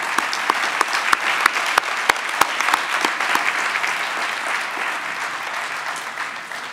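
Audience applause at a university graduation ceremony for heads of department and academics, a dense sustained clapping from a large crowd with sharper individual claps standing out early, then slowly thinning toward the end.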